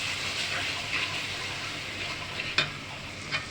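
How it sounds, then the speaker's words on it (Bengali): Spices with garlic sizzle steadily while being stirred in a pan for a chicken roast, a continuous close frying hiss with a couple of brief scrape or clink accents near the end. "এখন কষাবো"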